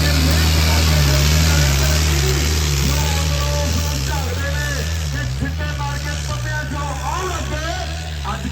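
A heavy tractor engine idles nearby with a steady low rumble throughout at a tractor disc-harrow competition, while people talk over it.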